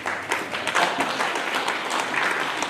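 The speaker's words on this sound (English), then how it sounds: "I would have given them a better applause" Dense, steady applause from an audience at a citizen report card launch in Homabay County, a continuous wash of many hands clapping at moderate loudness with no clear pauses.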